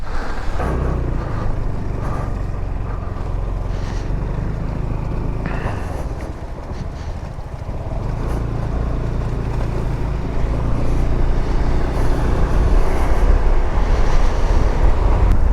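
A Sym Joyride 300 scooter rides through snow, its engine a steady loud drone mixed with heavy wind buffeting throughout, with no talk.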